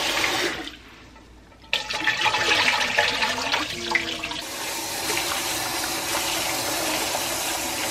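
Tap water runs steadily into a kitchen sink while jasmine rice is rinsed, a continuous close rushing splash that briefly dips, then surges back and holds loud to the end, with no talk.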